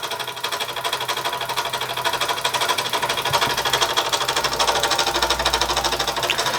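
A Mamod Minor 2 model steam engine runs under steam pressure with a rapid, even chuffing and mechanical clatter, steady and close, with no talking over it.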